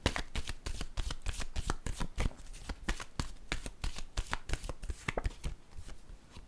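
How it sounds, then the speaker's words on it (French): Psychic tarot cards shuffled continuously, a fast close-up run of crisp flicks and slaps in steady rhythm with no talking. "Je vais piger une autre carte, attendez, de mon tarot psychique."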